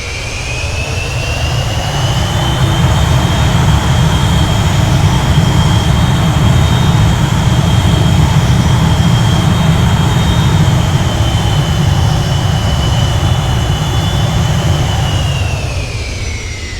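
A loud, continuous roar of Avro Vulcan jet engines in a flight simulator game, a high whine layered over a deep rumble, steady and close, swelling slightly then easing at the end.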